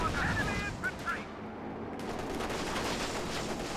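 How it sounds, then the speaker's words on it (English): A Panzer IV tank opens fire in the strategy game Company of Heroes 2, with rattling bursts of gunfire and shots over battlefield noise, faint and somewhat distant, with voices heard. "Panzer IV opening fire."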